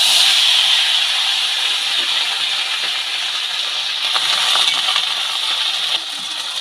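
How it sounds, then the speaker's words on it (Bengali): Helencha greens sizzling in hot fish oil with garlic, a steady dense hiss and crackle of frying that holds loud and even throughout, with no voices over it. "রসুন কেটে রাখা হেলেন শাকগুলো আমি তেলের মধ্যে দিয়ে দিলাম"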